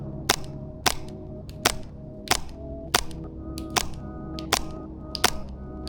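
An airsoft rifle fires a run of about ten sharp, snappy shots at a slightly uneven semi-automatic pace, each crack close and distinct over a low steady background hum.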